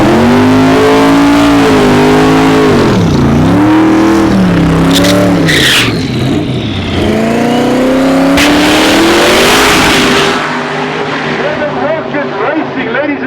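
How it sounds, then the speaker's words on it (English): Methanol-fueled Ford Mustang making a drag racing pass, with a loud engine revving and rising through several gear changes, a brief tire screech, then a fading roar. A commentator talks over it throughout. "methanol-fueled Mustang is back"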